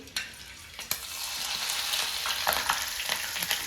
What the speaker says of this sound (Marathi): पण मिरच्या पण तळून घेऊ